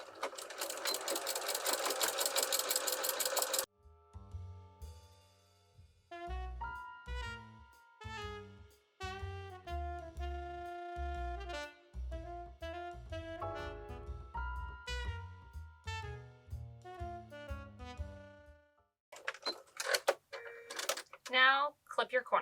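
A sewing machine stitches an insulated reusable bag in short rhythmic bursts with pauses between runs, fairly close, with a brief noisy rustle at the start and clicks near the end.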